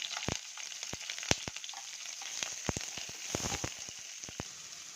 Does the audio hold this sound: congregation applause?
no